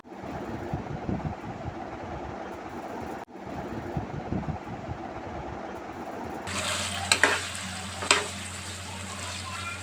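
Previously fried beef tipped into a hot pan for beef chilli dry, first a low rumbling stir and scrape, then a sudden bright sizzle that swells with a couple of louder clatters as it cooks close up.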